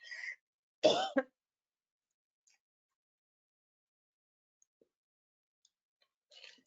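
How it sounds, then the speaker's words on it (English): A single sharp cough up close, followed by a brief throat-clearing sound, then near silence with faint ticks. "Sorry, I'm going to cough."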